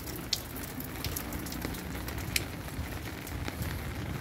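Heavy rain pours down steadily as a dense, even hiss with scattered drop splats on nearby surfaces, heard alone without talk.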